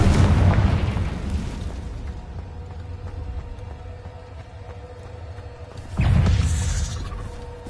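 Booming Confringo blasts from the Hogwarts Legacy spell, one heavy explosion at the start and another around six seconds, each fading into a low rumbling tail over steady game ambience.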